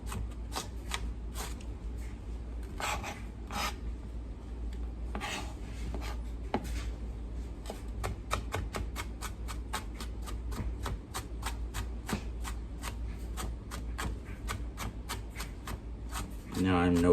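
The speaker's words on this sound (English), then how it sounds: "this is how I do minced onion fresh" Fresh onion is minced with a knife on a cutting board in rapid, crisp chopping taps, quiet and close, coming in short bursts, then a long steady run of rhythmic strikes, ending in a louder rustle.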